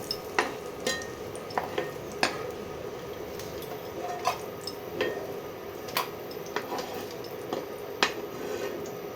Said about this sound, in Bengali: কাজু বাদাম কিশমিশগুলো ভাজা হয়ে গেছে দেখো।